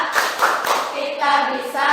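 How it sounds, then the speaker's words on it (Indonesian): A group claps together in a rhythmic pattern during a cheer in a school classroom, the sharp claps clustered early and then giving way to voices chanting together. "Tepuk semangat."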